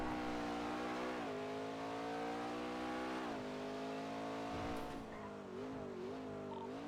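A car in GTA V on the NoPixel server, its engine droning steadily with shifts in revving pitch and a brief tire squeal, loud and continuous with no talking.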